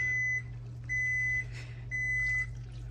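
A kitchen timer beeps three times in even half-second tones over a steady low hum in a home kitchen where chicken enchiladas are being cooked, clear and close.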